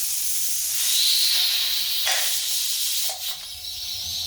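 Steam hisses steadily and loudly from the vent of a pressure canner full of homemade chili, a continuous close jet with brief shifts and a slight dip near the end.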